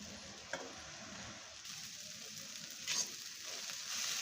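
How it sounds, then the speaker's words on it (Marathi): Moong dal being stirred and dry-roasted in a pan for halwa: a faint, steady hiss and sizzle with a few soft scraping taps from the stirring. The sound stays quiet and close, with no talking. "मी ही मुगाची डाळ हलवते आहे।"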